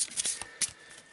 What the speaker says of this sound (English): cards in, so we'll give them a shuffle